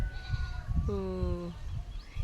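A goat bleats once in a long, wavering cry, close by, on a farm, with outdoor background noise and some low rumble around it.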